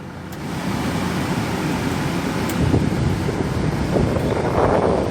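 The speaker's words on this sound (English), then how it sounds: "Wind's blowing very strong. AC is working perfectly." Air conditioning in a 2005 Kia Bongo III single-cab diesel truck blowing hard inside the cab, a steady, loud rushing hiss with slight buffeting from the airflow, no talking.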